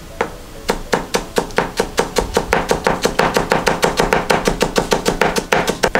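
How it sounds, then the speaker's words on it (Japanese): A knife chops rolled shiso (perilla) leaves on a cutting board in a fast, even rhythm of sharp close knocks, about five or six strokes per second, with no talking. "で千切りにするんですね"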